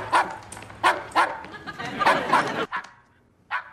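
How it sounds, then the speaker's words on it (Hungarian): A dog barks in a laboratory in a dubbed sitcom scene, several sharp barks in an uneven rhythm, loud and near, mixed with people talking. "Az egy kutya?"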